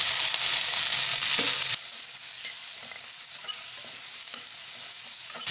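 Roughly chopped onions and tomatoes sizzle and fry in a pan, a strong crackling hiss that drops abruptly to a quieter, steady sizzle with occasional stirring sounds.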